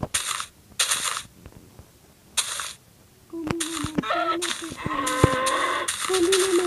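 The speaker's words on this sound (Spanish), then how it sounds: "Encontré una vaca." A cow in a survival video game gives short low calls among clattering game effects and item pickup sounds, with broadband bursts of noise in between.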